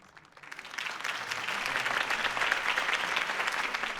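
Crowd applause at a Harvey Dent campaign speech in Batman: The Telltale Series, a dense, loud sheet of clapping that swells in after a quiet start and holds steady throughout.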